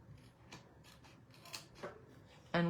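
Paper cut with scissors during card-making with stamped cherry images: several short, soft snips spaced apart, close and quiet, ending in a louder, brighter crunch of a cut.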